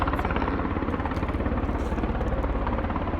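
Loud, steady rotor thumping of helicopters flying overhead, a continuous low pulsing drone filling the whole stretch without any voices.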